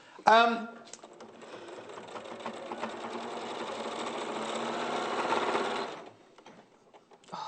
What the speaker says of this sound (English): all the machine sewing's done